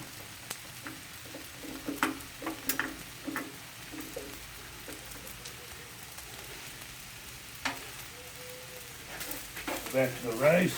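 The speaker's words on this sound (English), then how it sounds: "Keep chopping, mixing on the rice. Get all this soy sauce turned in here" Chicken fried rice with soy sauce and Worcestershire sauce being chopped and mixed in a hot pan: soft sizzling with irregular taps and scrapes of a utensil, a voice talking over it.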